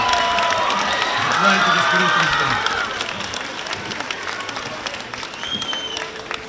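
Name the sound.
crowd applauding and cheering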